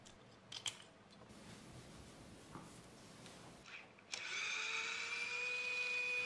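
Small parts are worked on while the tension screw is taken out of the extruder of a Bambu Lab P1 3D printer: faint clicks and scrapes, then a steady, whining whir for the final two seconds.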